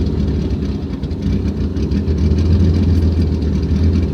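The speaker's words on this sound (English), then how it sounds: "Now I'm at ghost cam. Can you hear the idle difference?" A car engine idles on a ghost cam tune, with a steady, loud, lumpy rumble and an uneven low burble throughout and no talking.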